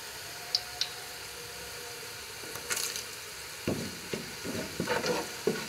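Light sizzling of whole spices frying in a pan with a few clinks, then scraping and stirring strokes against the pan, close and moderately loud.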